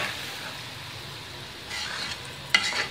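Rice being stirred with a spoon in sizzling jaggery syrup, a low steady hiss with soft scraping strokes, then a brief metallic clink and a louder stir at the end.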